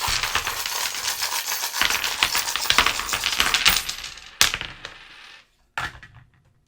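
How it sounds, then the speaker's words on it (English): Divination dice cast over Eshu during an Ifa or Santeria-style reading, giving a dense rattling clatter of small hard pieces for several seconds, then two sharp isolated clicks with silence between, close and fairly loud. "so I get the dice over Eshu"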